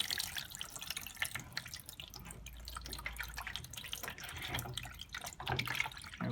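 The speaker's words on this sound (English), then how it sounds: "let that water drain out" Water drains from a Hotpoint washing machine's coin trap filter, splashing and trickling steadily close by, a continuous wet gushing with small drips, fairly quiet and without voices.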